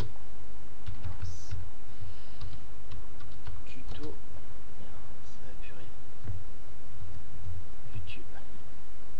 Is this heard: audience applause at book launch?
no